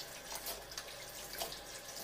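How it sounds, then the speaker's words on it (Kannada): Water is poured over sprouting green gram, a soft steady splash and trickle that stays faint and continuous throughout, with no voices. "ಹೀಗೆ ನೀರು ಹಾಕ್ತನೇ ಇರಬೇಕು"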